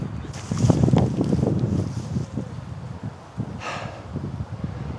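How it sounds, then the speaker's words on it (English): Wind gusts across an outdoor disc golf course in Bulgaria, a steady rumbling buffet on the microphone that rises and falls with a brief breathy swell partway through. "Wind is picking up a bit."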